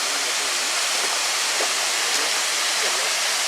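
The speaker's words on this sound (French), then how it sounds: "Nous voilà arrivés au niveau de la cascade qui est proche du lac" A mountain waterfall near Lac du Lauzon roars in a dense, continuous rushing hiss, loud and close, with a faint voice barely audible beneath the water.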